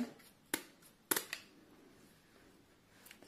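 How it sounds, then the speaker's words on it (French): Kitchen scissors snip off the tail and fins of a fish being cleaned, giving a few sharp, quiet clicks near the start against a soft background. "Vous prenez les ciseaux, vous coupez"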